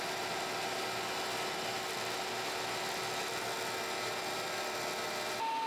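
A jointer running steadily as maple and walnut boards are fed across it, giving a continuous loud broadband machine whir with no pauses, cutting off abruptly near the end.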